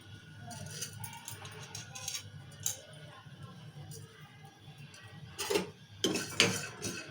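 Peanuts, coriander, fenugreek and cumin seeds dry-roasting in a pan for a masala brinjal curry, with scraping and clinking of a spoon against the metal that grows louder toward the end.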